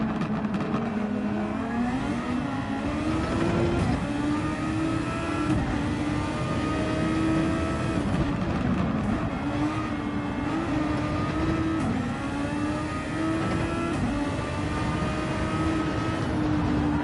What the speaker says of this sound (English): let's listen into the engine sounds as well for a couple minutes